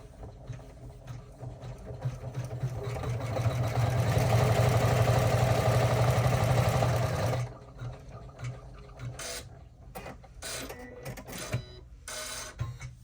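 An embroidery sewing machine stitches a clear stadium bag in the hoop, running as a steady close mechanical whir for several seconds before stopping, followed by scattered handling clicks and rustles.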